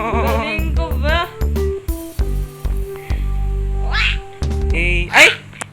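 A person's voice imitates a cat throwing up during a Roblox obby game, producing a string of close, loud, warbling meow-like yowls and retching cries with brief pauses between them.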